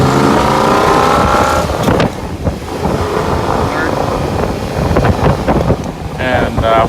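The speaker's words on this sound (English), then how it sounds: "so we're on the initial road test. Starting off in the first gear." A 1959 Chevrolet Corvette pulling away in first gear on a road test: a rough, rising engine note heard from inside the car under strong wind buffeting, with someone talking over the drive.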